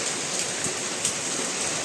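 Early rain falls in Rajkot, a soft steady hiss of drops on surfaces with a few slightly louder patters, fairly faint and with no talking.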